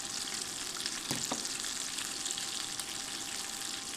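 Pork steak sizzles steadily in a skillet on an induction burner, a continuous bright frying hiss with a couple of brief stirring or basting knocks near the middle.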